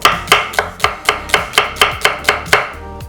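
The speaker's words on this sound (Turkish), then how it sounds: "Ters getirmek isteyenler de şu şekilde doğrayalım." A kitchen knife chops an onion with the blade drawn backward through each cut on a cutting board. About a dozen crisp, evenly spaced knocks come in a steady rhythm, close and alone.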